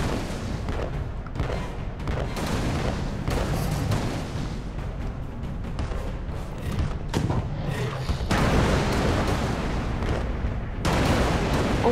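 Crab enemies fire at the player in Alice: Madness Returns, a steady barrage of thumping shots and booming blasts that repeats without letup for about twelve seconds.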